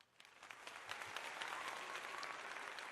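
A crowd applauds at a live comedy show, claps starting sparse and quickly swelling into steady, dense applause that carries on at moderate distance.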